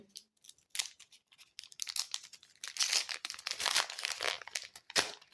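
A 2023 Panini sticker pack being torn open, with crisp foil ripping and crinkling in short, close bursts that build into a denser rustle before a final sharp tear.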